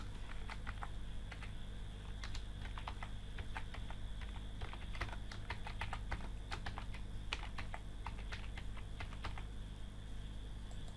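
Text being typed on a computer keyboard, a quiet run of irregular key clicks in bursts over a faint steady hum, no voices.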